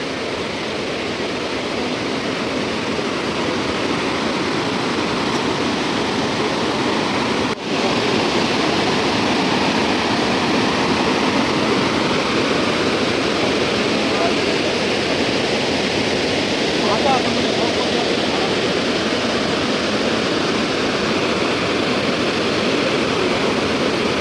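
Athirappilly Falls pours a steady, dense roar of rushing water even at low water level, loud and continuous with no speech over it.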